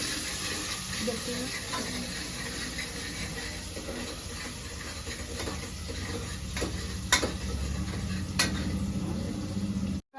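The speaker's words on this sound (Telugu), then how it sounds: "ఆయిల్ అయితే పోసిన ఆనియన్ వేస్తున్నా" Chopped onions sizzle steadily in hot oil in a pan, with a continuous bright crackle and occasional stirring clicks close by. No speech is heard.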